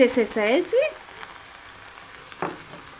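Hot oil sizzles and spits in a pan as mustard seeds fry for ridge gourd thokku, with bursts of crackling at first that settle into a quieter sizzle, then a brief stir-like clatter.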